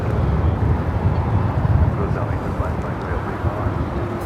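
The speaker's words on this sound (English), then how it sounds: "Delta Airlines Flight 898 coming in from Atlanta, A350-900 going around the ATC tower" Delta Air Lines Airbus A350-900 inbound from Atlanta going around at LAX, a steady broadband jet roar held throughout, loud and continuous with wind buffeting on the microphone.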